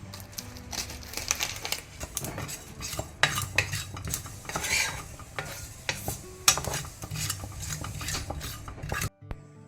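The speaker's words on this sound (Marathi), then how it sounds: "इल्लोसो धवो तीळ तितकेशे भाजून काडचो" White sesame seeds roasting in a pan, stirred with a metal utensil: irregular scraping and clinking strokes over a soft sizzling rattle of seeds, close and moderately loud, ending abruptly.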